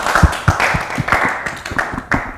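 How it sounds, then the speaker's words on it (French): Audience applause for a child at a children's show, a short burst of clapping with loud uneven hand claps close by, no talking. "On acclame très très très fort."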